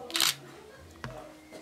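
Two crisp clicks from a single-lens reflex camera shutter ring out close by, the first bright and sharp, the second softer a moment later, in a quiet room during a hospital discharge.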